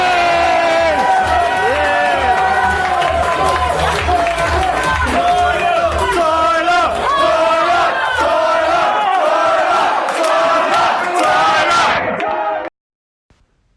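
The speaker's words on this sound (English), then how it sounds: "hearing the crowd chant my name like that gassed me up" A big fight-night crowd roars and chants a fighter's name in loud, rhythmic waves for about twelve seconds before cutting off abruptly.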